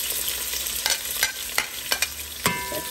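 Onion frying in a pot for baigan choka or curry baigan, with a steady sizzle broken by regular scraping stirs of a spoon, close and fairly loud, and no voices.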